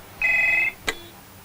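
A telephone rings once in a film scene, a single bright electronic trill lasting about half a second, followed by a short sharp click.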